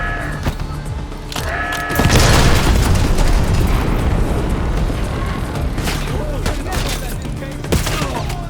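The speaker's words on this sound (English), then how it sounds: "Hit it with the mortar." Mortar strike explosions from the Call of Duty: Black Ops 6 game rip through a battle scene, heavy booms followed by a sustained roar of blasts and scattered gunfire, loud and dense throughout.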